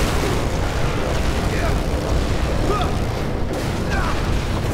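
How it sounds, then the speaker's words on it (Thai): Continuous loud rumbling blasts and booms pile up densely in the video game Dead Rising 3, a dense barrage of explosions with a faint voice underneath. "ระเบิดเยอะเกิน"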